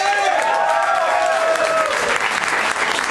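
A crowd claps and cheers steadily for a few seconds, a dense wash of applause with some voices riding over it.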